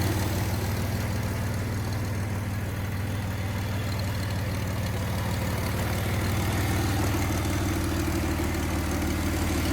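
A 1982 Chevy S-10 with its little 2.8 engine, off the road for 19 years, running at a steady idle, a low even rumble held constant throughout with no talk.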